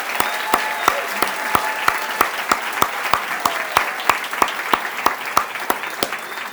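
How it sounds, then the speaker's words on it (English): An awards-gala audience applauds the CEO of the Year finalists with steady, even clapping that sounds close and sustained, with faint crowd murmur underneath and no talking. "Can we all please give a round of applause to the CEO finalists for all that they've done for our city?"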